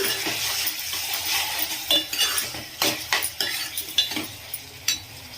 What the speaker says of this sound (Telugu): ఇందులోకి 1 టేబుల్ స్పూన్ వరకు అల్లం ఎల్లిగడ్డ పేస్ట్ని యాడ్ చేసుకొని పచ్చివాసన ఇంతవరకు వేయించుకోవాలి